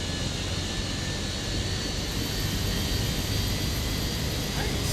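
Fenix A320 jet airliner taking off in a flight simulator at Queenstown runway 23, a steady broadband engine roar filling the whole stretch at constant loudness with no voices over it.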